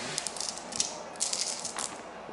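Dice rattling and clattering across a tabletop in a quick flurry of several bursts during an Age of Sigmar wargame, with reroll dice tumbling, close and fairly quiet.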